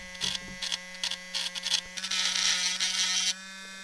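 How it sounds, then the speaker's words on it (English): A Dremel rotary tool grinds burrs off plastic on an RC crawler part, in short whining bursts followed by a steadier buzzing run, close up. "Then we use our Dremel to get the burrs off the other side here."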